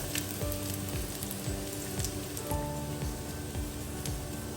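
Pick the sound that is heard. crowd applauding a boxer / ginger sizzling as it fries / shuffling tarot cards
ginger sizzling as it fries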